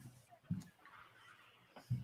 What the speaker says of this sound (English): Gotta love the chickens.